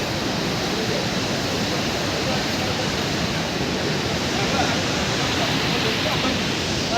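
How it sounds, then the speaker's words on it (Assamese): The Saraswati river rushes past Mana village in a dense, constant roar of water, loud and unbroken with no voices standing out. "চাওক এইটোৱে হয় সৰস্বতী নদী"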